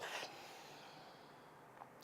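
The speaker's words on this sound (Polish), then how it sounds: "wdech przez nos, wydech przez nos i pauza" A slow exhalation through the nose during a relaxation breathing exercise, a soft, faint airy rush at the start that fades into a quiet pause.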